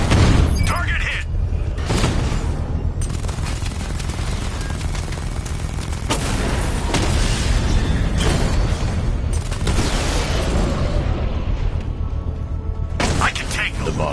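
Explosions and gunfire in the Batman Arkham Knight video game, with dense continuous booms, cracks and bursts filling the whole stretch, loud and close, while radio-style game voices talk throughout.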